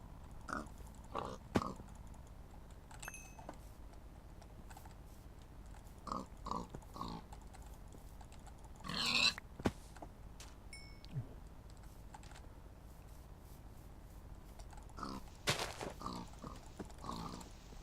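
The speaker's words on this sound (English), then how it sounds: "I was lucky enough to spawn next to all these pigs" Pigs grunting and oinking in Minecraft (Tekkit Lite modpack), a few short grunts scattered among steady computer keyboard typing and mouse clicks, with a louder burst of game noise near the middle.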